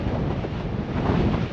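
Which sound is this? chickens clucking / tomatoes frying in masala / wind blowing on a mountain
wind blowing on a mountain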